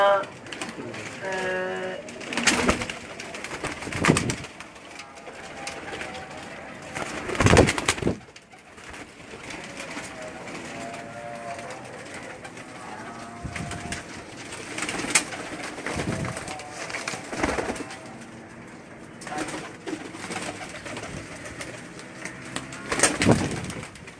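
Karachi breeder pigeons coo repeatedly at close range, low throaty calls rising and falling, with bursts of wing flapping and bustling noise throughout.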